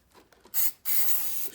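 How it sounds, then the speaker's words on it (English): Silicone spray hisses onto the starter cable of a Yamaha Raider motorcycle in two close bursts, a short one followed by a longer steady spray, after a few faint handling clicks. "silicone spray."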